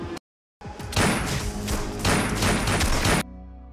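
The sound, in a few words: gunfire barrage in a film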